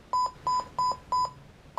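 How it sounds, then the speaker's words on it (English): Five short, evenly spaced electronic beeps from the tender of a Lionel LionChief Plus 4-6-0 toy train, clear and bright, repeating in a steady rhythm with nothing else around them. "you will hear some beeping coming from the tender of the train"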